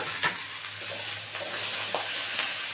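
Pumpkin, jackfruit seeds, pointed gourd, sweet potato and potato sizzle steadily in a hot pan with no water added, broken by a few soft scrapes of stirring, close and fairly loud.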